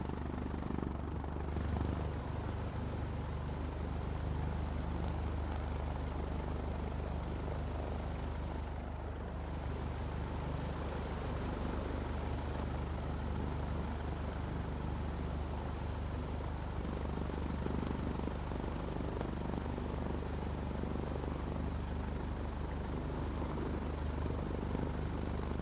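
An aircraft engine in Flight Simulator 2024 drones steadily and loudly while taxiing toward runway 26 at Bournemouth, a constant propeller-like hum that stays even from start to finish with no break.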